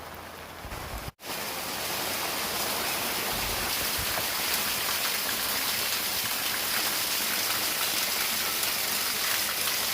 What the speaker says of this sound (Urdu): انتہائی زوردار بارش